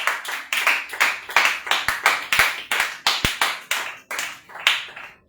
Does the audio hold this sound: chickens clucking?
no